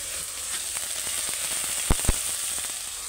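Onions and ginger paste fry in hot oil, giving a steady close sizzle with two sharp spatter pops near the middle.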